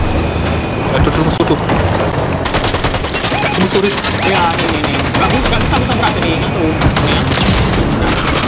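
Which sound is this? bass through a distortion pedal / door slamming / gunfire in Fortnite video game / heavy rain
gunfire in Fortnite video game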